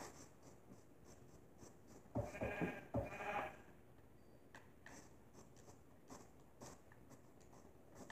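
Two short bleats from a Minecraft sheep stand out midway, fairly close, against a quiet background with faint clicks.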